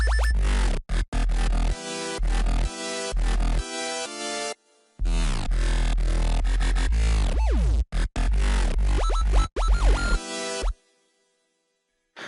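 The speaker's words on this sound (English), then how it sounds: "After I found the right octave for this sub bass track, it should sound something like this." A synth sub bass track made in Ableton plays in short, loud, punchy phrases with gaps between them, deep low notes under melodic synth parts, ending in near silence, with no talking.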